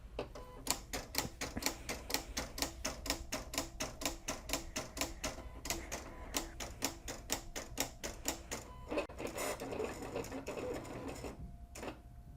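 A Silhouette CAMEO doing a test cut on glitter heat transfer vinyl, giving a rapid, regular train of sharp mechanical clicks and chattering motor bursts, close and continuous, briefly pausing near the end.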